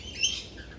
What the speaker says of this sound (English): Little lovebirds, eh? They're cheeky little birds.